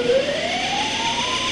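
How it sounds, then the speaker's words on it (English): A piercing alarm siren sounds in a nuclear plant control room, a single loud rising-and-falling wail that sweeps upward and holds steady across the brief stretch. "Hundreds of lights started flashing, accompanied by piercing horns and sirens."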